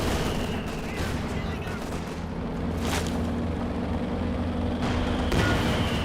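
Maxim machine gun in Company of Heroes 2 rattling in steady bursts amid a dense, continuous wartime battle soundscape, with sharper cracks near the middle and end.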